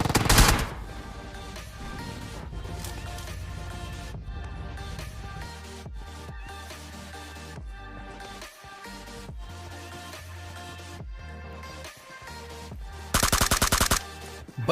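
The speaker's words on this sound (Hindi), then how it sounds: "इन्होंने फायर करके अपनी लोकेशन दे दी" An enemy squad fires at close to mid range in a video game, with sustained bursts of automatic gunfire over game sounds and a loud, dense volley near the end.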